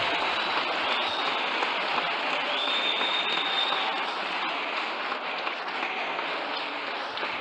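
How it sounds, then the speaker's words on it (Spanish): Church congregation applauding during a sermon, a continuous wash of many hands clapping that holds steady and evenly loud throughout, with no voices rising above it. "Un aplauso."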